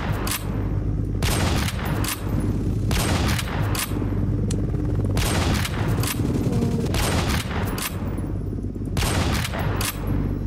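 Sustained gunfire in the Oil Warfare video game, dense, continuous volleys of shots with a few heavier bursts, loud and steady for the whole stretch without talking.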